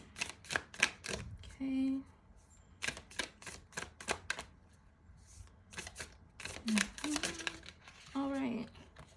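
Moonology oracle cards being handled and shuffled in quick papery riffles and flicks, close and crisp, with someone talking briefly in between.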